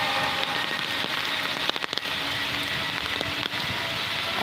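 Morning rain falling on the streets of Dhaka, a steady hiss of drops on pavement with a few brief louder spatters, continuous and close with no voices.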